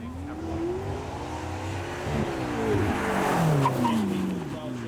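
A turbocharged McLaren supercar accelerates at the Beaulieu Supercar Weekend, its engine swelling from a low drone to a louder, rising roar as it passes, with people talking over it.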